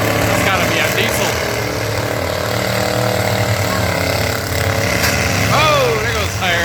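Diesel full-size pickup truck engine running during a demolition derby at a county fair, a loud rough rumble under crowd noise and commentary, with shouting voices near the end.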